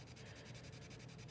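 Colorless blender pencil rubbing over colored pencil on paper: quick, rhythmic, scratchy back-and-forth strokes, close and soft, about a dozen in a short burst.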